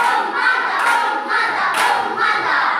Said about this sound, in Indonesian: Kita berikan tepuk mantap.